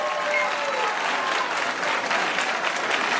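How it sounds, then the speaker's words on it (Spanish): Steady, dense audience applause at a town festival proclamation (pregón) in Villafruela, a continuous wash of many hands clapping at moderate distance with no break. "Un aplauso."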